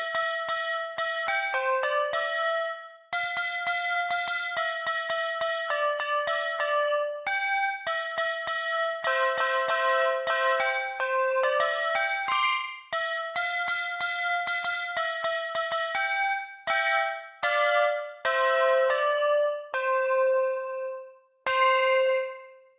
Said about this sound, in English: there's also bells